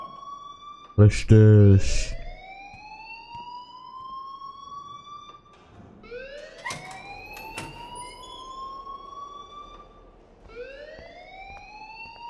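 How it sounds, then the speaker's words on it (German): Electronic alarm in the game Life is Strange, repeating rising whoop-like tones that sweep upward every few seconds, with a loud burst near the start and a voice talking over it. "please turn off that alarm since that's your job."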